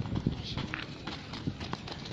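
A horse's hooves clip-clop in a quick galloping rhythm of loud, close strikes, with faint background noise.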